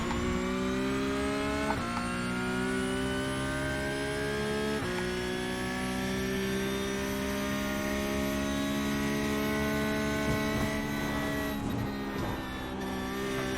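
A Porsche Cup race car in iRacing at Spa holds a loud, steady engine note that rises gradually, with sharp upshift blips marking gear changes. The sound is close and continuous throughout.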